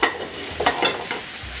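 Onions browning in a pan for a potato and onion tart make a brief soft sizzle, broken by a few quick scraping stirs of a utensil, close and moderately loud, with no speech.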